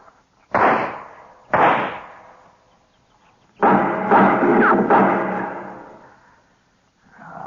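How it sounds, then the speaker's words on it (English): Sharp gunshots in an old radio Western drama, two separate cracks about a second apart followed by a longer louder burst of shots and a ringing decay, close and loud, with no speech. "Well, I'll put a couple of shots in there."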